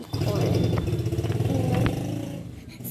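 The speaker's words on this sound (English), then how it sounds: "Sorry for the motorcycle." A motorcycle engine drones loudly close by, rising and falling as it passes, with voices talking over it.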